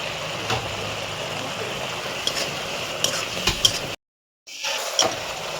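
Spice paste with cumin and chili powder stir-fried in a pan for chicken kosha, a low steady sizzle with scattered scraping clinks of a spatula, briefly cutting to silence near the end before resuming.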